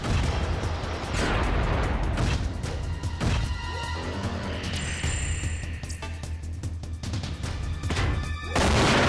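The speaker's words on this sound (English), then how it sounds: "Hit this guy again with missiles." Missiles strike an enemy mech in Front Mission 4: a loud, continuous barrage of explosive booms and crashing impacts, with rapid bursts and brief electronic beeps in the middle.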